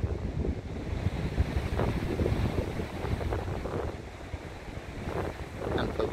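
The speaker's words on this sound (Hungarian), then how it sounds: "Vannak hullámok." Waves wash on open water beneath heavy wind buffeting the microphone, a churning, uneven roar with small splashes rising and falling close by.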